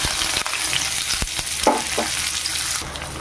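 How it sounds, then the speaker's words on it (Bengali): Chopped onion dropped into hot oil sets off a loud, steady sizzle, with a few sharp knocks and scrapes of a utensil against the pan. "এবার দিয়ে দেবো পেঁয়াজ কুচি।"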